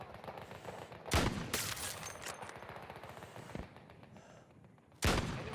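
Sniper rifle fire in Battlefield 6, two sharp, loud cracks about four seconds apart, set over a busy background of quieter distant gunfire and battle noise.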